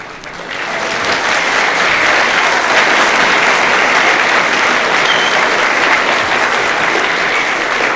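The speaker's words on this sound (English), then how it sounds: "Ladies and gentlemen, tonight, spare no applause. Spare no applause. Just applaud away." Concert audience applause at a 1970 live show in Washington DC, dense sustained clapping that swells in within the first second and holds steady and loud throughout, with no talk over it.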